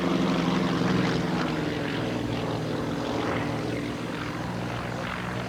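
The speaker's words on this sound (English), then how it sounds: "4, the loop with a roll on the top." An aerobatic propeller airplane flies a loop with a roll on top, its engine and airscrew producing a loud, steady, droning roar that holds throughout without any voices.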